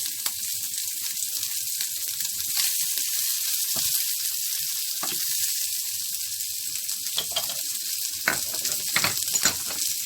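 Shrimp sizzle and fry steadily in a hot pan as garlic goes in, with a constant close hiss and a few sharp crackles and pops toward the end.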